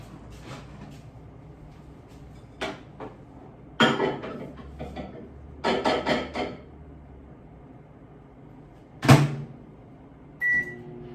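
A microwave oven runs while melting chocolate in a home kitchen, a low steady hum broken by scattered clicks, knocks and clatter, ending with a short high beep.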